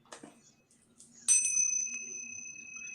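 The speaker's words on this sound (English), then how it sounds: "I got the gong going." A small gong struck once beside incense and candles rings out in a bright, sustained metallic tone that hangs steady and fairly quiet, preceded by a few soft handling clicks.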